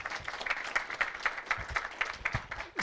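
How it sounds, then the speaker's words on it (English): An audience at a venture capital panel event on health tech applauds steadily, a dense continuous patter of many hands clapping throughout. "let's hear it for Perkins Coie. Applause."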